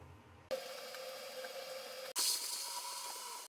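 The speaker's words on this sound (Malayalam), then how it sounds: "റവ ഇതുപോലെ നെയ്യിലിട്ട് വറുത്തെടുത്താൽ മാത്രമേ നമ്മുടെ ഈ പലഹാരത്തിന് ടേസ്റ്റ് ഉണ്ടാവുള്ളൂ" Semolina roasting in ghee in a pan, with cashews and raisins fried before it, for rava halwa: a soft, steady sizzling hiss that jumps abruptly louder twice and then carries on evenly.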